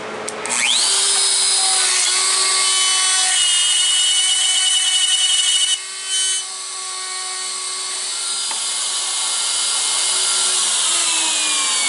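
A mounted router cuts a mortise in wood against a stop block, a loud steady high whine with a harsh cutting rasp that holds for about five seconds, briefly dips, then runs on steadily and slowly winds down near the end.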